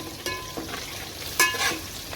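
Sliced onion and green chili sizzle in a hot pan, a close crackling hiss punctuated by a couple of sharp spitting bursts, no talking.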